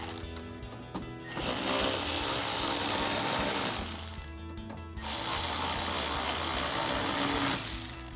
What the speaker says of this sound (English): To tighten it down, we're going to be using an 8mm socket and a ratchet.